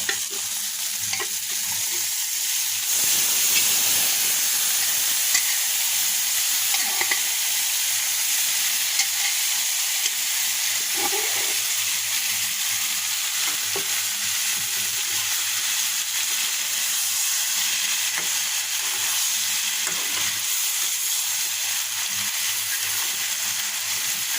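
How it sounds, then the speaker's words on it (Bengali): Boiled pumpkin stir-fried with browned shrimp, onion and garlic in a pan, giving a steady loud hiss of sizzling oil with occasional soft stirring scrapes, continuous and close. "এখন আমি সিদ্ধ করা মিষ্টি কুমড়াটা ভিতরে দিয়ে দেবো"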